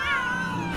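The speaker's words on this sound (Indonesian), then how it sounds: "dia terkejut melihat kucing-kucing berebutan main bolanya Max" Cats in an animated film squabble over a dog's ball, letting out a brief strained, rising meow-yowl that lasts under a second, fairly quiet and with no talking.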